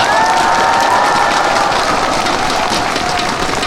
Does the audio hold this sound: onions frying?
no